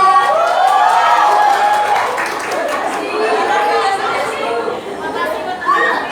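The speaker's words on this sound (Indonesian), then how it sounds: "Tepuk tangan yang meriah." An audience at an Islamic speech event claps, mixed with a great deal of crowd chatter and voices, the clapping steady but partly buried under the talk.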